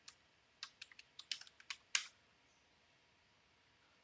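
A command typed on a computer keyboard into a terminal, a quick burst of about a dozen light key clicks close by, then quiet, one more click at the end.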